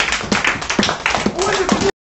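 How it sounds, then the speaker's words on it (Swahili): A church congregation at a Bible study claps loudly and steadily for the Lord, the dense applause running for about two seconds with a voice over it before it stops abruptly. "Hebu tupigie Bwana makofi makubwa"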